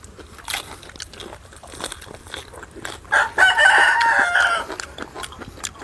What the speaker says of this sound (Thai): นี่เสียงไก่คันผม